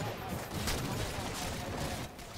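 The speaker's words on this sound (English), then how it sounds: "Ed's shot with the DMR still as crisp as ever, despite the new game." Rifle fire from the DMR in Halo 4 during a competitive match on the map Haven, a dense crackle of gunshots amid faint background commotion.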